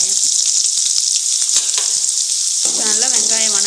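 Shallots frying in hot oil with curry leaves and a dried red chili for a cauliflower dish, a loud, close, continuous sizzle with scraping stirs, and a voice briefly sounding in the last second.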